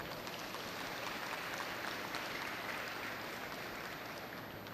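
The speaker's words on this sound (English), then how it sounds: "Let's give our alma mater a round of applause." A crowd at a university commencement ceremony applauds in a continuous, even wash of clapping heard from some distance, with no talk over it.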